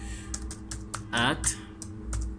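Keys clatter on a keyboard as a Wi-Fi password is entered, a quick run of separate clicks at close range, with a voice speaking briefly partway through.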